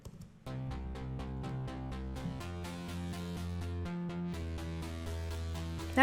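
Distorted sawtooth synth lead, filtered with a lowered cutoff, plays a riff of repeated sustained notes with a gritty, electric-guitar-like tone, loud and alone without any voice.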